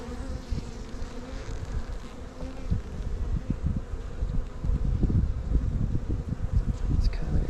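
Honeybees buzz continuously around an opened hive in March, a dense, steady drone close to the microphone with some rustling.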